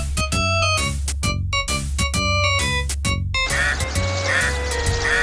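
Cartoon ducks quack in Richard Scarry's Busytown video game, a rapid series of loud, close quacks over a steady musical backing, followed by a softer whooshing stretch.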